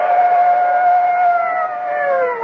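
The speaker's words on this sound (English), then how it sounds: "the blare of police sirens as two patrol cars come hurtling out of the night." Two police patrol cars race through the night with sirens blaring, a loud sustained wailing tone that slides slowly downward, alone and close.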